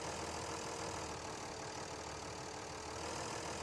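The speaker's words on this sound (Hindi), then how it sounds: "ट्रैक्टर ही फंस चुका है। 4x4 ऑन करते हैं इसका," A tractor engine runs steadily with its 4x4 drive engaged while the machine sits stuck in mud, a continuous loud mid-to-low rumble that holds without a break and has no voices over it.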